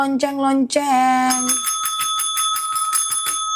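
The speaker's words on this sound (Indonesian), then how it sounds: "Akasia ini adalah lonceng." A bicycle bell rings in a rapid series of bright metallic dings, close and loud, following a couple of short vocal sounds at the start.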